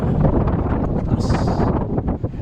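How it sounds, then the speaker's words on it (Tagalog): Strong wind buffets the microphone in a steady low roar high up on a tower, with rustling and a brief hiss partway through. "Napalakas ng hangin pala."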